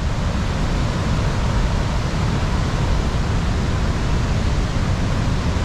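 The Caroní River in Bolívar state, Venezuela, rushes as a steady, loud broadband roar of churning water, unbroken and without voices.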